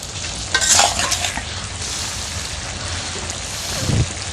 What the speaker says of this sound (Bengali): বেগুন দিয়ে আর চাপা শুটকি দিয়ে রান্না করছি।